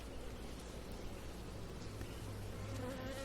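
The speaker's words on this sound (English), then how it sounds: "angry bees." Angry bees from an opened hive box buzz steadily and densely, a close, continuous swarm drone with no voices over it.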